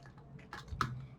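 A few soft keystrokes on a computer keyboard, close and quiet over a low room hum, in a brief stretch with no speech.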